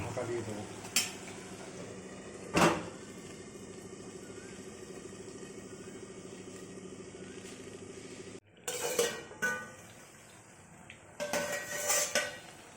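A lid clanks onto a wok after a splash of water is added to masala for a Bengali dahi vendi (okra in yogurt curry), bright metallic knocks and clatter over a soft background hiss, with a few sharper clunks near the end.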